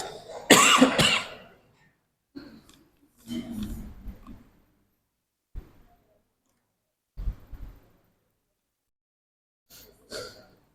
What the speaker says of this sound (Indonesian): saya tidak bisa melanjutkan karena batuk